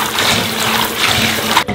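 Fish mint (zhe'ergen) is being rinsed by hand in a basin of water, with steady close sloshing and trickling that runs without a break and no voices.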